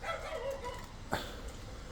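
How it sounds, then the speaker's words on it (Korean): A dog gives one short, sharp bark, then whimpers briefly, against a steady background rumble. The sound is fairly faint and distant. "야쟤 쟤왜 이렇게 짖냐"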